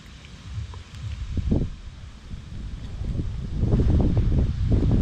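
Wind gusts buffet the microphone outdoors at an evening fishing spot, swelling and fading in low rumbling surges that grow stronger toward the end, with faint rustling and no voices.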